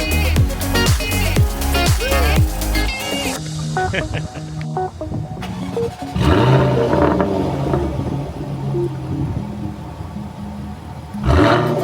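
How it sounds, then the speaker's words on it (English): Jaguar F-Type R engine roaring through sharp revs and gear changes, loud and close, then settling into a steadier growl with further bursts of acceleration, with people talking at times. "Fast car."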